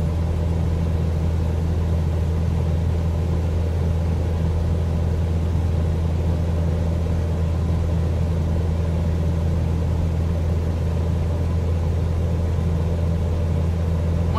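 A light aircraft engine in Microsoft Flight Simulator drones with a steady, loud, low rumble as power is added during instrument flight, holding even throughout.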